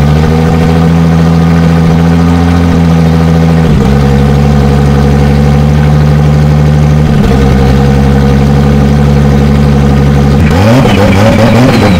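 A tuned car on a dyno, fitted with a rear exhaust and Iridium fuel tank, runs loud and steady with deep engine harmonics, shifting pitch in stepped changes around four, seven and ten seconds as it revs up.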